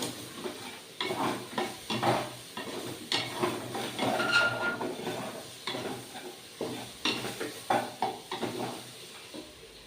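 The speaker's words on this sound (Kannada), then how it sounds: "ಕ್ಯಾರೆಟ್ ಹಾಕೋತಾ ಇದ್ದೀನಿ ಇವಾಗೆಲ್ಲ ಈ ರೀತಿ ಫ್ರೈ ಮಾಡ್ಕೊತಾ ಇದ್ದೀನಿ" Carrots and soya frying in a pan for ghee rice while a spoon stirs and scrapes, with steady close sizzling broken by repeated clinks against the metal, heard alone with no talk.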